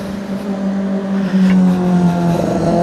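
A big motorcycle rolls by nearby, its loud, steady engine drone swelling slightly as it passes.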